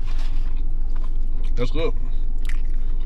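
Biting into and chewing a loaded grilled potato with cheese, soft wet mastication sounds close to the mic, mixed with talking during a food review.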